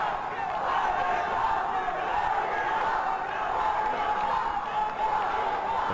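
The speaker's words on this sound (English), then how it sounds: "The crowd's really getting into this match now." Tennis spectators at the 2013 Aircel Chennai Open doubles semifinal keep up a steady, dense roar of cheering and chatter throughout, broad and even in level, with no distinct pauses.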